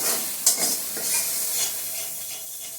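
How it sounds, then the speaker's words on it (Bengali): Spices sautéing in a pan with a bright, continuous sizzle and occasional stirring scrapes, fairly close and steady. "সবগুলি মশলা একটু কষিয়ে নিই, তারপর টমেটো আর কাজু বাদাম পেস্টটা দিয়ে দেবো।"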